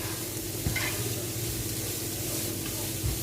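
Frozen vegetables with grated ginger stirred in a frying pan, a steady close sizzle and hiss with light scraping stirs, continuous and fairly quiet throughout.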